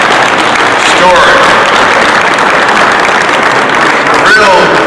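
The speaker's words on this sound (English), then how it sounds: "Give Mrs. Burgess another round of applause for that inspiring story" Applause from an audience at a sponsored genealogy event, an even, sustained wash of clapping that holds steady throughout.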